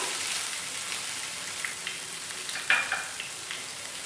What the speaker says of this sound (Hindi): और धीमी गैस पर हमें ये नारियल भूनना है 2 मिनट तक।